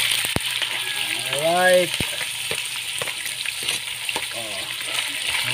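Chicken pieces dropped into a hot pan for a countryside pancit, giving a steady close sizzle and frying crackle with some stirring, while a voice speaks briefly over it.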